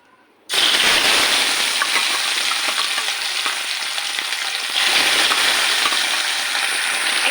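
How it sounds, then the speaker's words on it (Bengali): Rohu fish pieces rubbed with turmeric and salt hit hot oil in a kadai, setting off a loud, dense, continuous sizzle that starts abruptly and carries on steadily with no voices over it. "এটা আমি সবগুলো মাছ ভেজে নিচ్ছি।"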